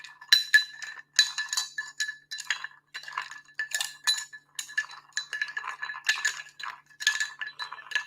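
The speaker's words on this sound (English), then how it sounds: "I'm just going to stir this. A little bit of cocktail ASMR." A spoon stirs a cocktail in a glass, giving a steady run of bright clinks and rattles of ice against glass, close and clear with no talking.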